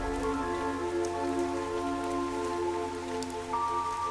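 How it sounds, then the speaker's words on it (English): Steady rain falls in the video game Fantasian: Neo Dimension, a soft continuous patter under a sustained, layered musical drone that shifts near the end, with no voices. "Yim continued to walk through the rain."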